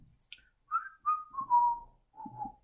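A person whistles a short little tune during a Skat card game, with several clear sliding notes in separate phrases, close and alone with no talking.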